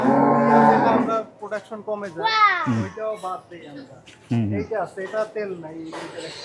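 Water buffalo low with deep, drawn-out moans, several calls in succession close by, with a voice chattering between them.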